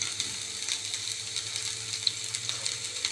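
Two medium-sized sliced onions sizzling in a hot pan, a steady soft hiss dotted with small crackles and pops, fairly quiet and without any talking.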